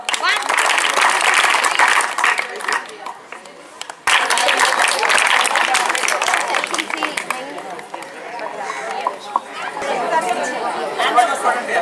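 A school audience claps and cheers in a loud, dense burst, and then claps again after a brief dip, with crowd chatter and voices mixed throughout.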